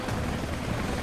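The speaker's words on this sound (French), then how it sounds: "Un hélicoptère." Helicopter in the video game Rise of the Tomb Raider, a loud, continuous rotor drone with a thumping low rumble filling the whole moment without a break.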